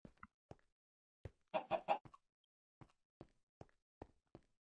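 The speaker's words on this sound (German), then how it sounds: "Du schaust witzig aus, Huhn." Minecraft chicken clucking in a Skyblock game world: a handful of short, sharp clucks spaced irregularly, with a brief louder burst of several clucks in the middle, clear and alone against silence.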